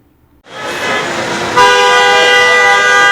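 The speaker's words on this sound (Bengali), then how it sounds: "প্রতিনিয়ত যানবাহনের হর্ন বাজিয়ে শব্দ দূষণ সড়ক মহাসড়কে।" Loud vehicle horns blare in Dhaka road traffic, one long honk joined by a second, brighter horn that holds steadily to the end, close and dominant over the traffic noise.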